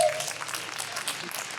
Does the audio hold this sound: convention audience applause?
yes